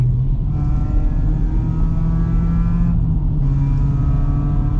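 A Honda Civic cruises along the motorway with a steady low engine and road drone, its tone shifting slightly midway.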